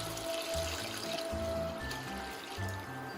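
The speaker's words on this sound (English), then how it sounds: "I'm using 1 liter of vegetable stock and 1 liter of water in there, so that's 2 liters." Vegetable stock and water being poured into a soup pot for a Greek white bean soup, a steady continuous splashing pour with a low rumble underneath, fairly loud and without speech.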